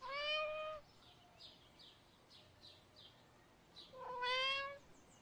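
A cat in the video game Copycat meows and howls in two long, drawn-out cries at the start and end, with faint chirping calls in between and no talk.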